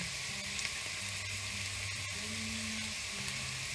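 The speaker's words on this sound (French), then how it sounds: "là on fait cuire les oignons" Onions frying in a pan for a coquillettes risotto with ham and comté, a steady close sizzle with faint crackles throughout, no talking.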